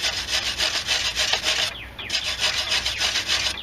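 Slag being removed from a flux core weld: close, continuous rhythmic rasping and scraping strokes of metal on metal, about three per second, with no voices.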